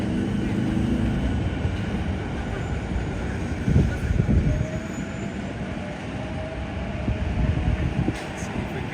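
A Tokyo Marunouchi Line subway train makes a steady, rumbling roar through a station, with rushing air and some rattling, loud and continuous with a faint high whine.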